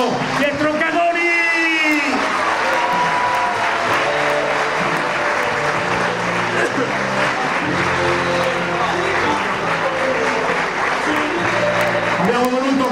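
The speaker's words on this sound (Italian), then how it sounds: "lo accogliamo con un bellissimo applauso" Applause welcoming athlete Pietro Cadoni at a Sardinian athletics awards celebration, sustained loud clapping from a crowd with music playing throughout, steady for the whole stretch.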